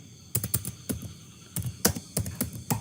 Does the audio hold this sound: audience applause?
no